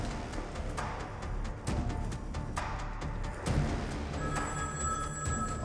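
A telephone rings with repeated bursts over a low room hum, with faint clicks and shuffling between the rings.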